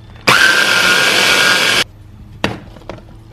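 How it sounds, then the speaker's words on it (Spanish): A powerful food processor grinds seeds for hummus in a loud, steady whir lasting about a second and a half, then stops abruptly, followed by a few short knocks and clatters. "Tapamos la procesadora de alimentos potente y vamos a procesar las semillas durante aproximadamente 2 minutos"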